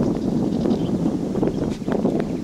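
Wind buffets a microphone outdoors at a scenic spot during a motorcycle trip in Belarus, a steady loud rumbling roar with gusty fluctuations throughout.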